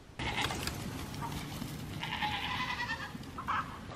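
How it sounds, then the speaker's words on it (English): Goats on a farm bleat loudly and nearby, with one long drawn-out call followed by a shorter bleat, and no talk over them. "So we have a lot of goats here still."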